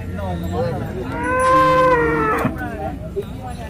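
A Jersey cow at a cattle market gives one long, loud, close moo that swells in the middle and fades, with faint market noise around it.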